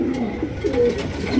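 A pair of Jharna satin pigeons cooing, low soft throaty coos close by over a steady murmur of background noise.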